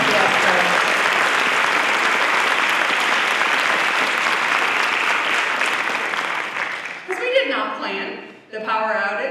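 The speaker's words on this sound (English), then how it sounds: "can we give a huge round of applause to our OTS folks?" Audience applause at a spring convocation, a broad, sustained wash of clapping from a large crowd filling the hall for several seconds before fading, followed by a voice speaking over a microphone.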